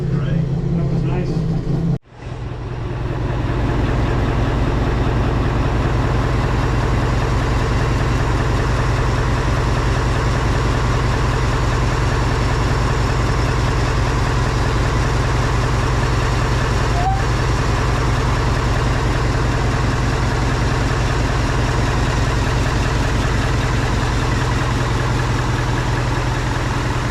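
A Class 03 diesel shunter locomotive cranks and catches after a brief gap, then settles into a loud, steady, low idling throb with a constant even pulse that carries on unbroken for more than twenty seconds.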